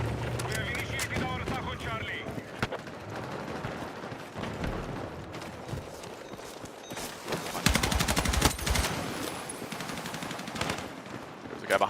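Rapid bursts of tank turret machine-gun fire in a first-person shooter video game, dense and loud throughout with repeated volleys, while players talk over the shooting.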